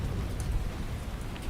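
Rain ambiance track plays steadily, a soft continuous patter and hiss of rainfall with a faint rumble underneath, moderately quiet and unbroken by speech.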